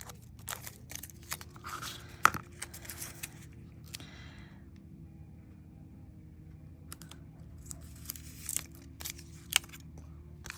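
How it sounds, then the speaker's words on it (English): Scissors trimming a strip of metal tape on a scrap of card, a few crisp close snips and small clicks scattered over a quiet background hum. "And trim the metal tape"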